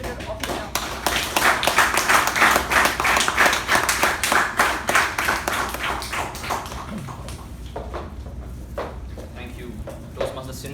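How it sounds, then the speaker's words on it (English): Applause for a Toastmaster walking on stage at a Toastmasters officer installation ceremony, a dense burst of clapping that thins out into scattered claps over about ten seconds, with some voices underneath. "please welcome Toastmaster Shivaprasad on stage with a huge round of applause"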